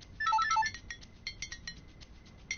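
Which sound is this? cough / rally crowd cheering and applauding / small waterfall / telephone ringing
telephone ringing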